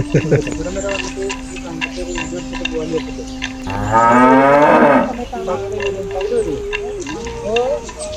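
A horned cow lets out a loud, drawn-out moo close by in a forest village in Wayanad, with people talking and a steady background hum around it.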